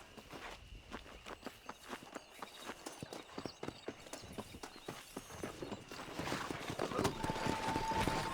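Horse hooves clip-clop at a steady walking rhythm while riding in Red Dead Redemption, close and distinct, picking up into a quicker, busier gait with rising noise toward the end; a faint voice murmurs briefly.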